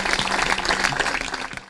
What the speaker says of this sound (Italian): Un applauso al giovanissimo.